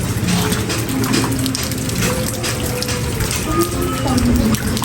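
Steady rain falls continuously in the background, a dense hiss with scattered drips and patters, while voices talk over it.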